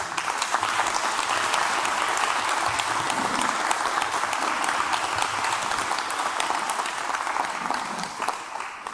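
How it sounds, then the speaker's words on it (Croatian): A concert audience at an MPZ Podravina concert gives a long, loud round of applause for two musicians, dense, steady clapping filling the hall and fading slightly toward the end. "ovo svakako zavređuje njih dvoje još jedan veliki aplauz"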